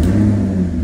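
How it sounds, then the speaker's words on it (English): A Maserati GranTurismo convertible with an electrical fault idles steadily at close range, a deep, even engine rumble with no voices over it. "So, engine on, sounds lovely."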